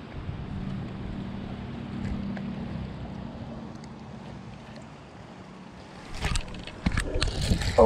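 Wind gusting at about 20 mph over a fishing boat on the Tennessee River, a steady low rumbling buffet that lasts throughout and builds into louder, harsher bursts toward the end.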